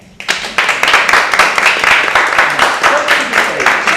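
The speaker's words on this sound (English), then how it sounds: "Give yourselves a round of applause." Loud, dense applause from an audience at a televised show, many hands clapping together in a sustained, even wash that starts abruptly and carries on steadily, close and full.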